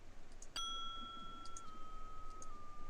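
A single bell strikes once in the video game Lonely Things. It gives a bright, clear ding with a pure ringing tone that fades slowly over about two seconds against quiet background hiss.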